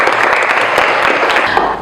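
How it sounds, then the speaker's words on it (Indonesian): Classroom applause for a student at a university teaching session, a steady wash of many hands clapping at close range, sustained for under two seconds with faint room noise. "tepuk tangan untuk Malik"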